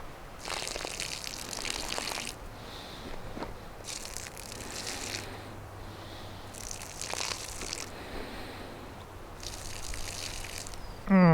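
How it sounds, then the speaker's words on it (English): Liquid fertilizer poured around the base of a garden transplant, close gurgling pours arriving in four separate bursts with quiet pauses between them. "And so we're just pouring a little right around the base where the roots are."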